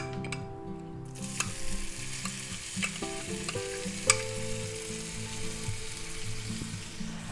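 Garlic sizzling in hot oil in a pan during a pork lo mein and vegetable stir fry, a steady close crackle with a few sharp utensil clicks and scrapes as it is stirred, no voices.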